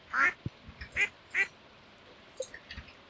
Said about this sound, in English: The ducks are starting to like me a little more now.